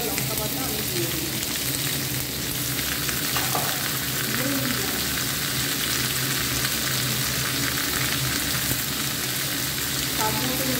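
Prawn curry with pumpkin, potato, tomato, ginger, cumin, coriander and chilli paste sizzles steadily in a pan while being stirred, a continuous close frying hiss with soft scraping throughout.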